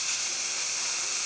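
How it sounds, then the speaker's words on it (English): Compressed air hisses steadily and loudly from a shop air filter's moisture collection bowl on a CO2 laser air setup, a continuous broadband blast with no pauses. "you can actually take this and push this up, and it'll also blow the moisture out of this bowl"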